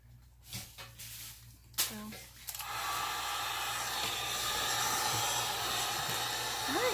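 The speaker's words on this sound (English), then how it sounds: "So I'm going to hit it with the heat gun and blend it." A heat gun blows on a glitter tumbler with a steady, loud, broadband airy roar that starts after a few seconds of quiet handling noises and a brief voice, then continues unbroken up close.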